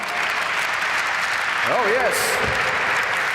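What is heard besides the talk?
audience applause at the Ford Focus RS reveal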